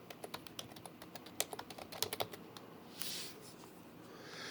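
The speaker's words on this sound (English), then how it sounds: "So I'm going to type out the White House." Typing on a computer keyboard to enter a search in Google Maps, heard as a steady run of light, close key clicks with a few sharper taps and a brief hiss near the end.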